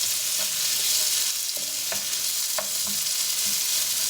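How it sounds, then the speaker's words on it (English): Green chilies and onions sizzle steadily as they fry in a pan with spices, with a few scraping stirs cutting through the constant hiss; close and fairly loud, no voices. "Give that a stir."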